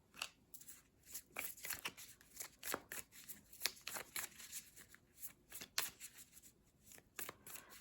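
A heart-shaped deck of cards is shuffled in a quick, crisp riffling flutter that repeats in short bursts, close and fairly quiet, with no talking.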